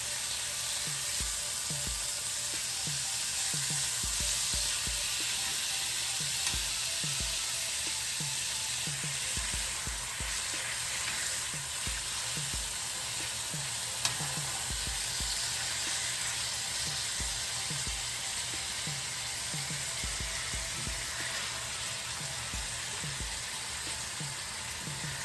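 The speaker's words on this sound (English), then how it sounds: "Now that our meat is browned up" Birria meat sizzles and fries steadily in a hot pan as it browns, a continuous close crackling hiss with occasional stirring bumps throughout.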